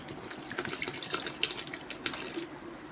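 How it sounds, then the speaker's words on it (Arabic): Water runs steadily from a tap into salt in a bowl while pie dough is mixed, a continuous close splashing trickle with no voices. "وهنبتدي نحط كده كميه من الميه"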